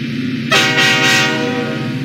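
A Lionel toy train's horn toots loudly on its track, a sustained harmonic blast over the steady rumble of the running train, with no talk.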